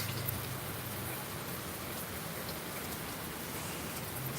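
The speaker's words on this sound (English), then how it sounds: "Ooh, yeah, I'm starting to see the mixing of rain directions. Like some rain is coming this way towards me," Rain from Hurricane Florence falls as a steady, dense hiss, even and continuous at moderate loudness, with no voices.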